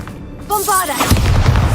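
Bombarda blasting spell in Hogwarts Legacy: a brief magical shimmer and a voice, then a single heavy explosion bursts out loud and close, followed by rumbling debris.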